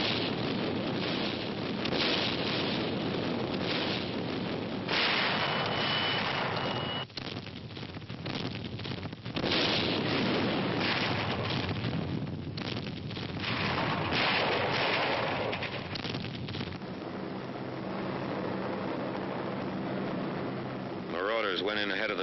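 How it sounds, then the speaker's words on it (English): Naval bombardment of coastal installations at daybreak off Normandy, heard as a continuous roar of distant artillery fire blended with wind and surf, with narration running over it throughout. "Daybreak. The naval bombardment continues."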